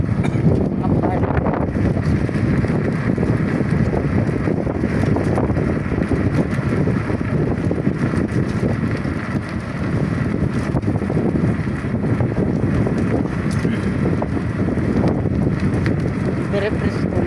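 An afternoon breeze buffets the microphone outdoors near rice fields, a steady rumbling wind noise lasting throughout with people talking underneath.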